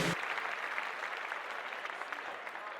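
Steady applause from a studio audience greets the opening of the Disabled Is Abled podcast, dense and continuous clapping starting abruptly and holding at an even level throughout, with no talking over it.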